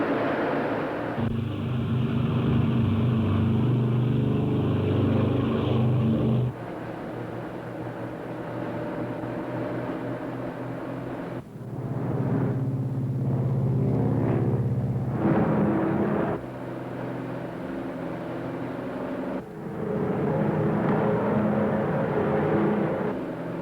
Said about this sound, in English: Ready for takeoff. Takeoff power. Takeoff now.